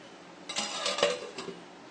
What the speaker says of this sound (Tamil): இப்போ நம்ம மூடி போட்டு மூடிக்கலாம்